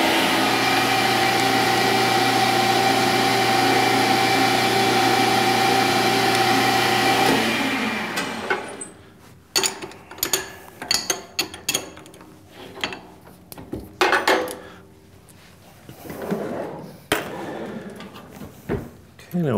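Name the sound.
lathe drilling through a toolpost grinder wheel arbor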